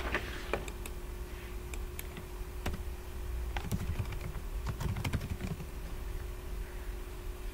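Fingers type on a computer keyboard while entering a group list on a wiki page, producing scattered, irregular clicks and small bursts of keystrokes over a steady low hum.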